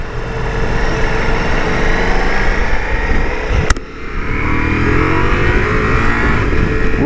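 Ducati Multistrada V4S motorcycle, rated around 170 horsepower, accelerating hard onto a freeway, engine roaring loud and continuous with heavy wind rush and a brief dip as it shifts gear mid-run.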